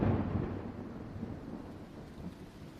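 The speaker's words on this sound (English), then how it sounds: "Rain. Of course." Rain falling steadily with a deep rolling rumble of thunder that is loudest at the start and fades into a dense wash of rain, with no voices.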